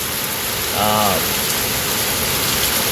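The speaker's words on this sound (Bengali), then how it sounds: "এরকম একটা রোদ থেকে এরকম একটা বৃষ্টির এরকম একটা মুহূর্ত" Steady rain hisses evenly throughout, a dense wash of falling drops, with a brief tonal hum rising and fading early on.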